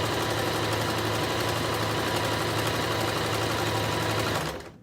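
A sewing machine runs steadily while stitching a scrunchie, its motor whirring at an even, close and loud pace with no talking, then stopping abruptly at the very end.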